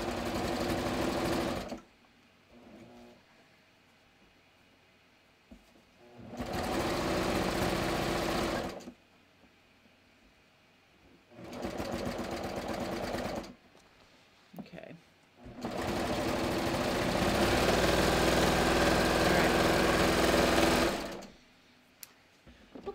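A sewing machine stitches the center back seam of a bathrobe in four separate runs, each a steady mechanical whir that starts and stops abruptly, with quiet gaps between where a voice talks.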